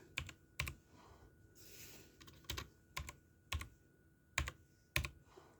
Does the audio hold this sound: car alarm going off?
no